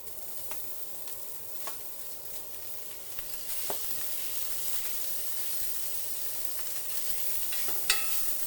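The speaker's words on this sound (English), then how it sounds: "just rendering up some more grease" Breakfast sausage rendering grease in a cast iron skillet, a continuous bright sizzle and hiss with scattered pops and a few spatula scrapes, close and steady throughout.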